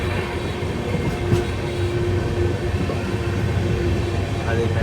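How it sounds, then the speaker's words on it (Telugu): A Nagpur Metro train passes outside, heard from aboard a moving long-distance express in First AC LHB coaches: a continuous rail rumble with a faint steady hum and light clatter throughout. "అది మెట్రో ట్రైన్ పోతుంది."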